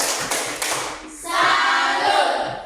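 Indonesian classroom students do a salute clap: a couple of sharp single claps, then a dense burst of group clapping, loud and close.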